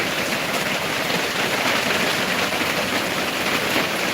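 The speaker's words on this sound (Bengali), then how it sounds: "আমাদের দিকে তো প্রচন্ড বৃষ্টি হচ্ছে" Heavy rain pours in a dense, unbroken roar that stays loud and even throughout, with no voices.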